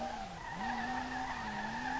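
Continuous tire squeal from a car drifting in the racing game SLRR, a sustained screech over a droning engine, its pitch briefly dropping then climbing back, loud and close with no talk.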